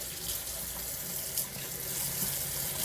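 A sink tap runs steadily as a mustard-stained shirt is rinsed under warm water, a continuous close hiss and splash with small shifts as the fabric moves under the stream.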